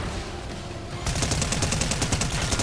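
Loud, dense rapid gunfire in a Fortnite match while shooting at a boss, a steady background din that jumps into a stronger rattling burst after about a second and keeps going without a break.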